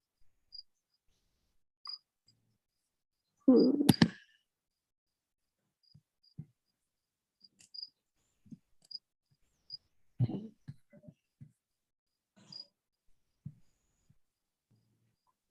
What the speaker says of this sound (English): it's end of our season here, summer season, and the crickets are crazy